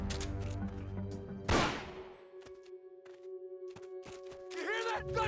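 Gunfire in the video game Metal Gear Solid: Peace Walker: one loud, sharp blast is followed by several scattered shorter shots over a steady tonal game backdrop.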